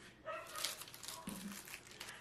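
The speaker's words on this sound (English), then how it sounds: "And if you hear the dogs, I do apologize." Dogs playing outside in a backyard bark and yip faintly from a distance, with a crinkling rustle nearby in an otherwise quiet room.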